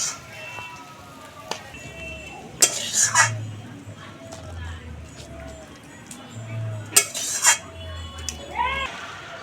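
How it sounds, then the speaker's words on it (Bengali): Cooked chicken curry is scraped and tipped from a pan into another pot, village-style, with scattered metal clanks and utensil scrapes, a few sharper clatters standing out over a low, steady background. "নামিয়ে নিয়ে অন্য পাত্রে ঢেলে নিচ্ছি।"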